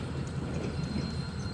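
Ohio Central freight train slowing to a stop beside loaded tanker cars at a gas and oil siding: a steady, fairly loud low rumble of rolling cars and engine, with a faint thin high squeal running through it.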